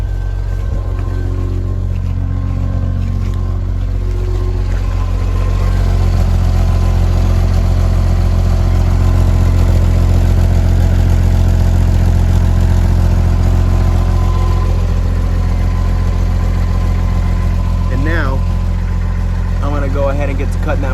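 A Jeep Wrangler YJ engine idles steadily with its muffler on, a deep, rumbling low drone that stays even throughout, with a few brief higher clatters near the end.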